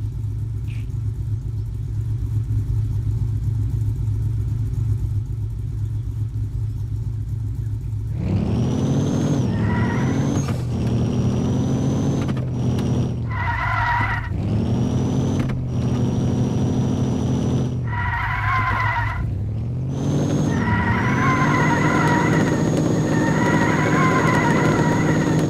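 Jeep Wrangler engine revving on a top speed run, starting as a steady low idle rumble and then rising and dropping through several loud revs and shifts, close to the microphone with no voices.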